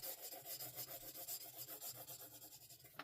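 A paper blending stump rubbing pencil graphite across drawing paper, giving a very faint, close, rhythmic scrubbing with steady back-and-forth strokes and no talk.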